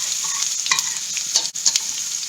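Garlic is stir-fried in a pan for fried rice, a close, bright continuous sizzle with a few quick scraping stirs.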